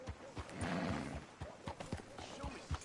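In the video game Red Dead Redemption 2, a horse snorts and whinnies while its hooves clop in an uneven rhythm, fairly quiet, with brief talk mixed in.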